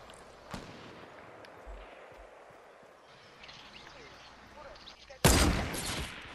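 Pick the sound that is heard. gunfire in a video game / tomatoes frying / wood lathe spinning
gunfire in a video game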